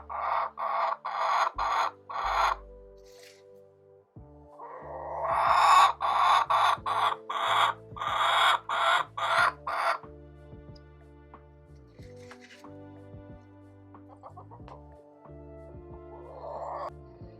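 A hen in a nesting box with other chickens, repeating loud, rhythmic complaining clucks in fast runs, then a long quieter stretch with scattered softer calls, and no talking.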